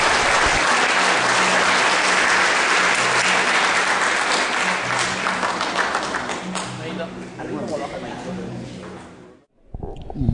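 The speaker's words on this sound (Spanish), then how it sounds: "Para quien lo recibimos con un cariñoso y caluroso aplauso" Warm, loud applause from a conference audience swells and holds for several seconds, then thins into scattered claps and murmuring voices before stopping abruptly, with a little more sound at the very end.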